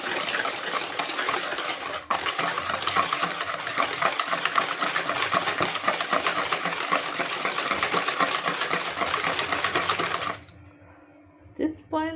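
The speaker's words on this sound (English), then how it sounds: "Then at this point I'm gonna add sugar, and then whisk it in." Sugar being whisked into beaten eggs for a pineapple cake batter gives a steady, loud, whirring churn that runs for about ten seconds before stopping abruptly, followed by quiet.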